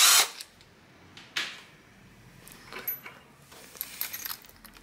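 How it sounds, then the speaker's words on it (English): A power drill whirs in a few short bursts separated by quiet gaps, with faint clicks and handling noises in between. "Next up is using your drill."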